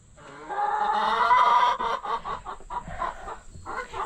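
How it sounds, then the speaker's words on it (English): Chickens cluck and squawk close by, one long drawn-out call followed by a run of choppy, overlapping clucks. "These chickens are mouthy."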